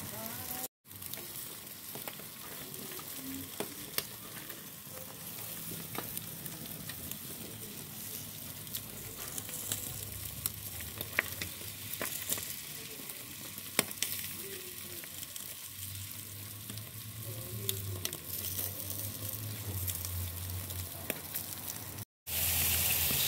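A salmon head grilling with a continuous crackling sizzle, close and steady for a long stretch, with occasional pops, faint background voices and a couple of brief cuts.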